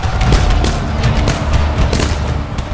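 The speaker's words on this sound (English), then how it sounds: "The pirates opened with scattered gunfire, and Bellamy shouted that he would massacre" Scattered pirate gunfire in an attack on a French ship, a loud, dense barrage of booming shots and thuds overlapping continuously without pause.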